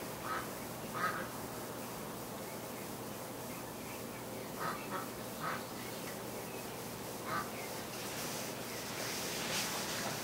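Frightened ducks quack in short scattered bursts from a huddled flock, fairly faint and somewhat distant over steady outdoor background noise.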